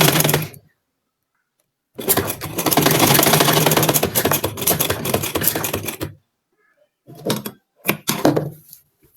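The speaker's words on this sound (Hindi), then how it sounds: "कपड़े को बिल्कुल स्मूथली इसकी सिलाई लगानी है" A sewing machine stitches fabric for a frock, with a long continuous whirring run of rapid needle strokes, followed by a few short bursts separated by silence.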